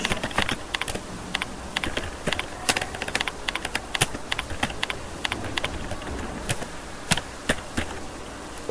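Rapid keystrokes on a computer keyboard entering a company name into a client record, a steady run of crisp, close clicks with brief pauses and no talk.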